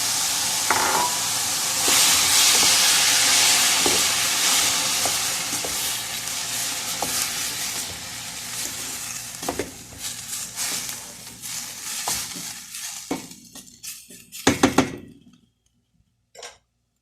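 Chopped tomatoes drop onto softened onions in a hot frying pan, setting off a loud steady sizzle with a spoon stirring and clinking against the pan, before the sound fades out near the end.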